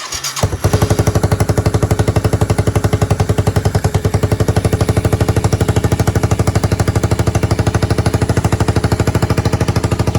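A cold Yamaha 225DX Tri-Moto three-wheeler engine cranks briefly, then starts and settles into a loud, steady, rapid idle chugging close by for the rest of the clip.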